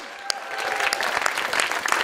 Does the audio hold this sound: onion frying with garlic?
no